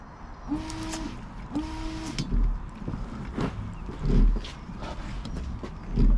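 Windscreen washer pump on a Range Rover Sport L320 spraying in two short buzzing bursts near the start, followed by scattered knocks and handling thumps nearby.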